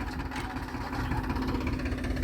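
Three tractors and a JCB run together in a village while spreading manure. Their engines make a continuous mid-pitched rumble at steady idle, fairly close, with no talk over it.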